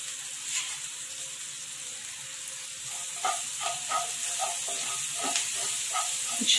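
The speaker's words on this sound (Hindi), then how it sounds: "कुछ 10 से 15 सेकेंड्स के लिए बस हमें इसे अच्छे से फ्राई कर लेना है" Vada pav filling of green chilies and spices sizzles steadily as it fries in a hot pan, with a continuous close hiss broken by a few brief crackles and spatters.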